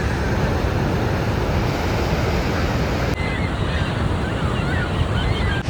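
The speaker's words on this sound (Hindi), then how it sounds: "यहाँ से वाटरफॉल है ना, ये यहाँ से पानी नीचे जा रहा है" Niagara Falls pours in a loud, continuous roar of rushing water, a dense broadband wash that never lets up, heard close with some wind buffeting the microphone.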